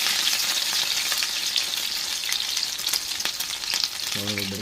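Shrimp omelette (tortang hipon) sizzling steadily in a pan, a close, continuous frying crackle with scattered pops throughout.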